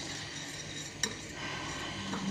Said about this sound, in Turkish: Salçayı iyice kavuruyorum ki hani midede bir yanma yapmasın diye